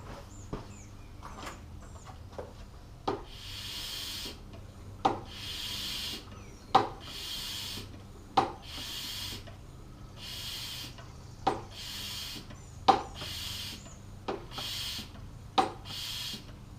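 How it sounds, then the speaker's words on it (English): A hand siphon draws fuel from the tank of a 1931 Plymouth, with a steady rhythmic series of rasping, squeezing pumps about every second and a half, close and moderately loud, and no talking. "Let's see if we can siphon some and clean out this main line."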